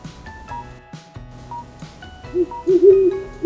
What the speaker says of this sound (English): It's owl.